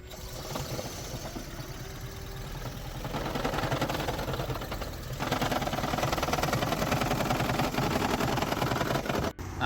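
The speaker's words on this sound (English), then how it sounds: "Customer states my 2012 Prius has a weird knock." A 2012 Toyota Prius engine runs with a rapid, rough rhythmic knocking, steady throughout and moderately loud, with no voices.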